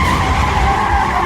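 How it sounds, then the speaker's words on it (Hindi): A cartoon car revs like a race car while its wheels spin in place without moving, giving a continuous, loud, rough screeching roar that never lets up through the short stretch, with no talk. "किसी रेसिंग कार की तरह आवाजें करती रही, लेकिन 1 इंच भी आगे न बढ़ पाई।"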